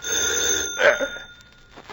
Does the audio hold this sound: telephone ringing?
yes